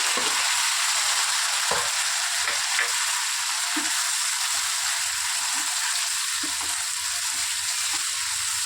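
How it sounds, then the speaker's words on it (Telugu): Thinly sliced tomatoes added to ginger-garlic paste frying in a pan give a steady, bright sizzle with a few soft knocks and scrapes as they drop in, close and with no talking. "ఇప్పుడు ఇందులో సో ఇలా సన్నగా కట్ చేసి పెట్టుకున్న టమాటాలను వేసుకోవాలి"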